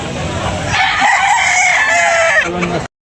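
A rooster at a rainy chicken market lets out one loud, close, drawn-out crow lasting about two seconds, with faint market chatter behind it.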